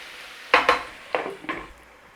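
Onions and beef cooking down in a pan for a jam, with a few close scraping stirs and clanks over a faint steady sizzle, with no talking.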